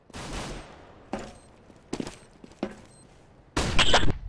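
AK rifle fire in a shooter video game sounds as several short bursts and single shots spread over a few seconds, with the loudest sustained burst at the end. Nothing else is heard between them.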